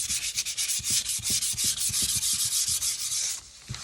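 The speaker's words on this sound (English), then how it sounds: "So now I'm going to take our sandpaper square that you have in your kit. I'm just going to lightly sand this." A small sandpaper square rubs lightly over a painted surface in quick, even back-and-forth strokes, a close, steady scratchy rasp that stops just before the end.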